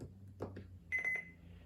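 Several quick electronic beeps from the buttons of a Midland WR10 weather radio, close by, with a few soft clicks just before them.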